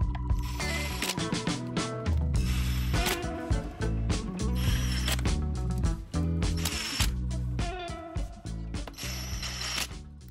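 Screws being driven into the plastic casing of an InMotion V11 electric unicycle, a close, loud run of rapid mechanical clicking and whirring that runs in bursts with brief gaps, heavy with ratchet-like ticks.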